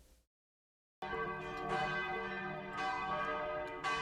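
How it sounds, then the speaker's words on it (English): A large bell in a video game rings after a brief silence, its tone sustained and shimmering, vibrating loudly with dense metallic overtones and a fresh strike near the end. "slowly, the bell stops vibrating, and the pain in your body gradually eases"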